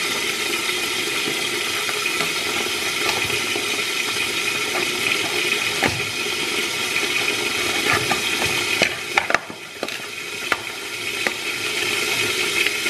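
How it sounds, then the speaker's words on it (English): Warm water pours steadily into a container for an at-home manicure soak, a continuous splashing rush with a few knocks and clinks near the end. "I put warm water in there with a little bit of salt and a little bit of oil"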